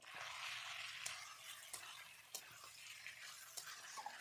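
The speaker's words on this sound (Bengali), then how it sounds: "আলুর সঙ্গে চিকেনটা কষাতে থাকবো।" Chicken and fried potatoes fry and sizzle steadily in a pan for coriander chicken, with a spoon scraping and stirring in occasional soft clacks.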